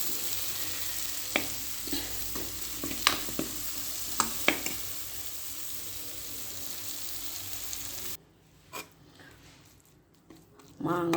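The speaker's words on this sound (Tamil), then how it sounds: "பச்சை வாடை போகிற வரைக்கும் நல்லா வணக்கிடும்." Raw mango sautés in a pan with turmeric and chili, giving a steady close sizzle broken by a few sharp stirring scrapes, then dropping to a quieter, sparser crackle.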